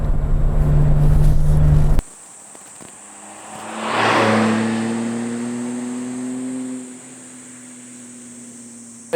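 A Suzuki Jimny engine with an aftermarket Trust exhaust idles, then revs up with a deep, throaty exhaust note that swells and settles back into a low rumble; no talking.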